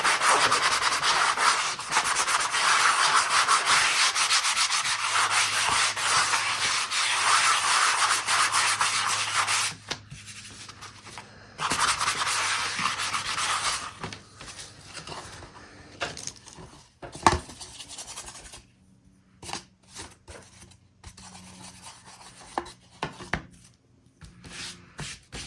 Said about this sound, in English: I got some roughness going on here, so I wanted to sand it